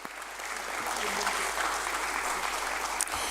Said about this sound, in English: can we please have a big round of applause for this amazing moment that we have?